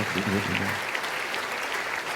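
Applause from guests at a gala dinner, a steady broadband patter filling the whole stretch with a brief voice near the start.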